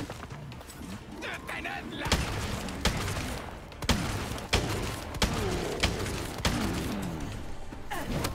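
Magnum revolver shots crack out in Resident Evil 4 with the Valkyrie mod, several loud sharp reports spaced a second or so apart over steady game noise, with people talking excitedly throughout.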